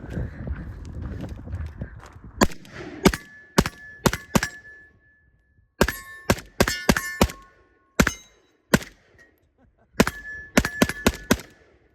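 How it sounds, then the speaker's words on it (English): An AK rifle firing 7.62x39 rounds outdoors, sharp loud single shots arriving in irregular bursts and short strings, each cracking cleanly with brief gaps of quiet between them. "This is the problem with shooting the AK."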